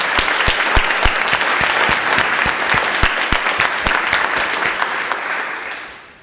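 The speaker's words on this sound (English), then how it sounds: "I'd like to ask you again just to give them both growth organisations a round of applause" Audience at a Manchester business marketplace event giving a round of applause, loud close clapping with sharp individual claps standing out, steady for several seconds and then fading away at the end.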